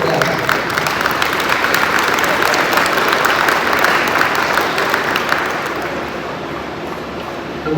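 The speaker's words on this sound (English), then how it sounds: "everybody deserves a round of applause." Audience applause at a construction topping-out ceremony, a steady, dense clapping from a crowd that carries on for several seconds before tapering off slightly.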